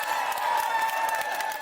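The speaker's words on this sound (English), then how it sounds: "Cheers and chants God save the King!" A street crowd cheers, whoops and claps as the King's car arrives, a steady roar of many voices with a tonal chant rising over it, close and sustained for the whole moment.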